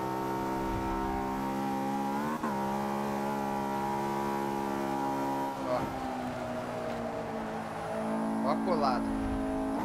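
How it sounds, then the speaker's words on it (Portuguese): A Honda S2000 engine in the racing game Forza 5 revs with a high, rising harmonic whine, dipping and climbing through gear changes, while someone talks briefly over it. "Olha o som do carro, rapaziada."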